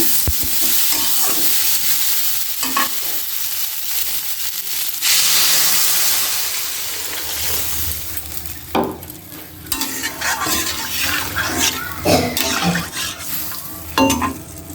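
Potatoes with turmeric and chili powder stirred and fried in a pan, close sizzling and hissing with scraping strokes that come in bursts, louder toward the end.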